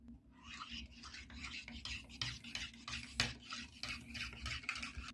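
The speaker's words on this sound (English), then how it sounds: "Now we mix it all up" A spoon stirs a hot cocoa mixture of sugar and flavoring in a cup, giving soft, repeated scraping and rubbing strokes at a brisk, uneven rhythm, close and fairly quiet with faint clinks.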